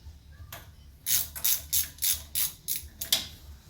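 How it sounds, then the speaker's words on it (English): A wrench ratcheting as it removes the 12 mm brake line banjo fitting on a 1991 Honda's front brake caliper, giving a run of about eight rapid, crisp clicking strokes close up. "we can take off the banjo fitting for the brake line"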